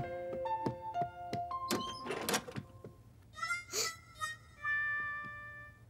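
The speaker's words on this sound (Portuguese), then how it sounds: "Tentou abrir a porta, mas não conseguiu." Cartoon sound effects of someone trying to open a stuck door: a series of sharp thunks, knocks and rattles, a scraping burst and a creaky squeak, fairly quiet with no voices.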